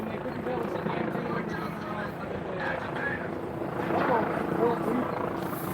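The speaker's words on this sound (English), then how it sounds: "News helicopter up here." A news helicopter hovers overhead during a police crowd push in Seattle, its steady rotor drone continuous and moderately loud beneath voices and crowd murmur.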